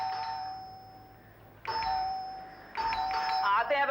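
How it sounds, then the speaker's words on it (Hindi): A household doorbell chimes repeatedly in a home during a Hindi TV drama. Several bright ding-dong rings come in quick succession, and voices talk and call out over the later chimes. "घंटी पे घंटी है टंटनाना"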